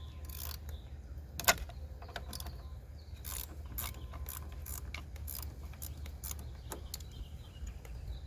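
A 10mm socket ratchet works loose the negative battery terminal on a 1999-2014 Hyundai Sonata, giving a close run of quick metallic clicks and ratcheting ticks over a steady low hum.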